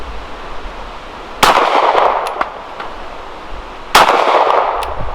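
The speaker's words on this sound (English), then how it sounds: "Gun shooting a little bit low." A CZ P-10 M pistol fires at outdoor steel targets, with two loud, sharp shots a few seconds apart, each followed by a ringing steel clang and a trailing echo.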